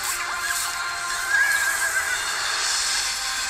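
Horse neighing in the Cinderella trailer, a clear drawn-out whinny rising over a bright orchestral wash, loud and prominent.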